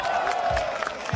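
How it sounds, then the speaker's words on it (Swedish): A crowd at a sing-along event in Alvesta cheering and whooping for the winning women, short and lively across the whole moment. "Lite jubel för damerna som vann tävlingen överlägset!"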